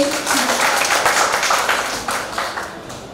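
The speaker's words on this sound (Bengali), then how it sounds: "সবাই একটু জোরে হাততালি দেই।" An audience at a university quiz and talk closing ceremony claps in a dense, steady patter that slowly tapers off, with no clear voices over it.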